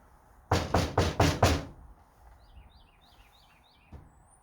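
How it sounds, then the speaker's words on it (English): Five firm, evenly spaced knocks on a door, loud and close, followed by quieter bird chirps twittering in the background and one faint later tap. "Behold, I stand at the door and knock."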